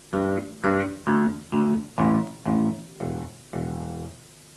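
Eight plucked bass guitar notes near the bridge in a steady rhythm, each with a hard, bright, biting attack and short ring, played alone up close.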